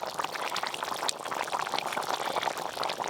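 Boiling fish curry of rohu with bitter gourd and potato is poured out of the pot, a close, continuous bubbling and splashing wash of liquid with no pauses.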